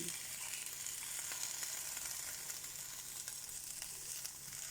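Garlic frying in a pan while preparing Sylheti sidol shutki vorta, a continuous soft sizzle with faint steady hiss, quiet and even throughout, no voices.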